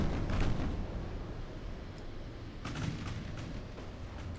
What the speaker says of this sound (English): Oh no, they're firing over here on this guy.